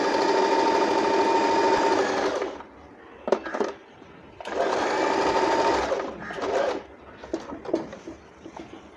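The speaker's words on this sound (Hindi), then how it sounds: "तो अब हम आ चुके हैं ए पे, तो सबसे छोटी सिलाई चलो देख लेते हैं।" A Usha Marvela automatic sewing machine set to its smallest stitch runs in two bursts of rapid, even mechanical whirring and clicking, close and loud, separated by pauses filled with handling knocks and clicks.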